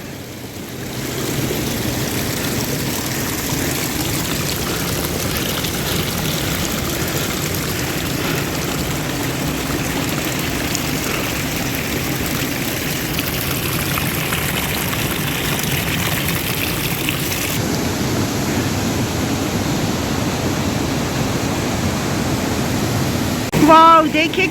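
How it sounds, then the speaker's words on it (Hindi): Gallu waterfall on a trek pours as a steady, dense roar of rushing water, close and continuous for the whole stretch without a break. "ये रहा वाटरफॉल"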